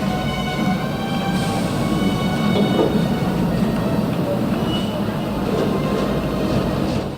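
A train travels in The Raven video game, heading to Venice: a continuous rolling rumble with a faint rhythmic clatter of wheels, steady and moderately loud throughout.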